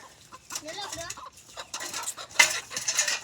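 Chickens cluck in short bursts close by, mixed with clattering and scraping sounds.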